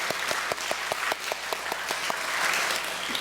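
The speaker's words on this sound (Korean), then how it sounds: "우리 박수로 격려 한번 하도록 하겠습니다" Congregation applause during a Sunday service at Namwonju Baptist Church for young church members visiting from Seoul, dense steady clapping that fills the room throughout, with a few louder claps near the front.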